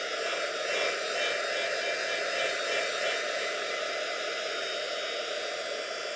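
Hair dryer drying glue on a paper sunflower craft project, a loud, steady blowing whoosh that runs continuously throughout with no other sounds.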